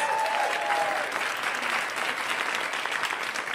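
A comedy club audience applauds a stand-up comic, a steady dense wash of clapping that fades slightly toward the end, heard alone without talk.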